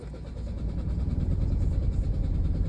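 A small van's engine cranks over without firing, giving a steady, close, low churning rumble that grows slightly louder and never catches.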